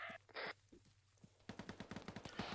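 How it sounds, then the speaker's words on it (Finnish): Gunfire in the military shooter Arma 3: scattered single shots and short bursts, then a rapid run of automatic fire, fairly distant and faint amid battlefield noise, with no talking. "Northwestissa ammuta."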